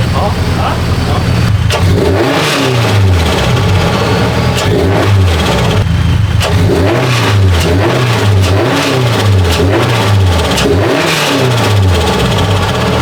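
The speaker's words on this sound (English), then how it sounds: "You can hear the turbo a little bit." Toyota GR86 fitted with a JDL turbo kit, engine running loud and close with repeated revving swells rising and falling in a steady cycle, a light turbo note riding on top and voices talking over it.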